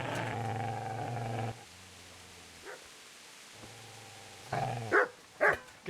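A dog barks and growls in the medieval video game Kingdom Come Deliverance, a few sharp barks toward the end after low rumbling growls, moderately close and fairly quiet.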